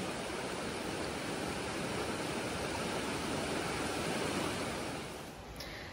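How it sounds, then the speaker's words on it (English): Large, fast-moving river rushing along a hiking trail, a steady, broad roar of flowing water at close range, continuous and alone, easing slightly near the end. "Another day, another large and fast-moving river crossing."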